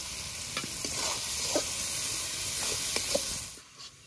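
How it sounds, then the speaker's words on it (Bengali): Ground cumin and coriander spice paste with salt and a splash of water frying for duck curry, a loud, hissing sizzle with several spoon scrapes against the pan, fading near the end. "মশলা কষানো হয়ে গেছে"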